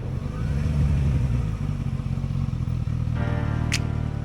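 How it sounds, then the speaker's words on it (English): A motorcycle engine idles and runs steadily nearby, a deep throbbing exhaust rumble with a slight rise in pitch toward the end, loud and continuous with no talk over it. "this bike sounds a lot nicer than my Hornet did."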